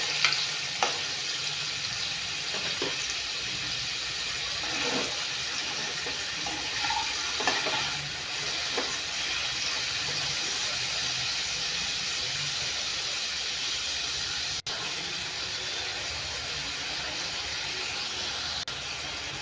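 Paneer pieces fry on low heat in a pan for a tomato cashew curry, a steady hissing sizzle with occasional soft clinks and stirring scrapes, close and alone with no speech.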